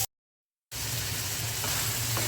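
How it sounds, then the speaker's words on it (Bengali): Prawns fry in oil with onion, giving a dense, even sizzle that starts abruptly after a short silence and continues steadily at close range. "চিংড়ি মাছটা পেঁয়াজ আর তেলের সাথে ভালো করে ভেজে নেব"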